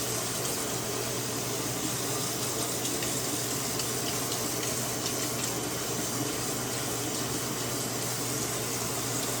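Hot water runs from a bathroom sink tap in a steady, close hiss and splash, unbroken and fairly quiet, with no talking over it.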